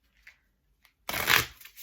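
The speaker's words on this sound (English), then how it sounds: "while I'm shuffling" A deck of playing cards, with a Joker included, gets shuffled in one loud, dense riffling burst lasting about half a second, preceded by a few soft card taps and followed by light handling.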